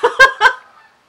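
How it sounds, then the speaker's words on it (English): Two or three short, nasal honks in quick succession, close and fairly loud, then quiet. "there's more geese"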